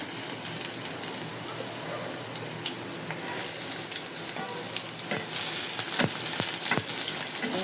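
Chopped onions fry in soybean oil in a pan on the stove, a loud, continuous close-up sizzle with sharp scraping clicks of stirring that grow more frequent toward the end.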